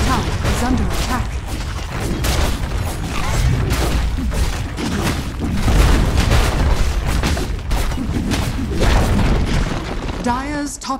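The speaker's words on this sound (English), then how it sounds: "Dire's top tower has fallen." Explosions in Dota 2 Luna gameplay as a tower is destroyed, with a dense, continuous barrage of loud booms, bursts and crackling impacts that keeps going nearly the whole time.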